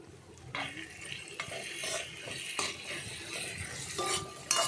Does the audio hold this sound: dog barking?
no